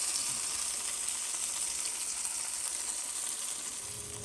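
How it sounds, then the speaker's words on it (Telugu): Tempering for almond chutney, with dried red chillies, coriander and curry leaves frying in hot oil, a steady, close crackling sizzle that holds evenly throughout with no talk. "తర్వాత పోపు పెట్టేసుకోవడం, ఎండుమిరపకాయలు, కొత్తిమీర అన్నీ,"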